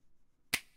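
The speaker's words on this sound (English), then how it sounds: "We also have a clap track." A single crisp clap, tightened with Scheps Omni Channel expansion, snaps out alone with a short decay and near silence around it.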